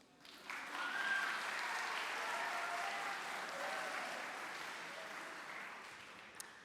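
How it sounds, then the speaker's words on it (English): Applause fills a school auditorium during a junior high choir event, rising quickly to a steady, fairly quiet wash of clapping that holds evenly, heard from some distance. "a round of applause,"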